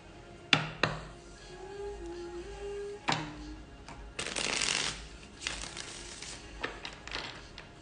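A deck of tarot cards is handled and shuffled close by, with sharp riffles and slaps, a couple of soft thumps, and longer fluttering runs of cards spread over several seconds.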